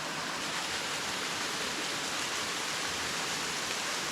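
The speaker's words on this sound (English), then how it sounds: "there's all these small little falls that are working their way around the top of the ridge and then coming down over the top and down into the river" Small waterfalls spill over the top of a ridge in Tasmania and run down into a river, making a continuous, even rushing hiss of falling water close by with no talk.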